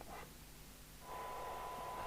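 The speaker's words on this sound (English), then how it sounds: "What you're hearing there is just through the speaker mic." A steady electronic tone over a bed of hiss comes from a Midland 77-805UK UK FM CB Portapack radio, heard through its speaker mic on the service bench. The tone starts about halfway in and holds evenly to the end.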